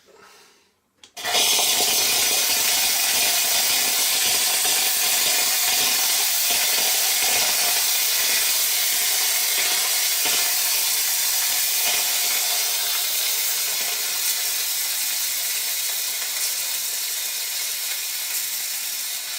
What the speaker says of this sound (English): now let's steam for a minute